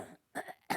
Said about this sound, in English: I'm gonna cough now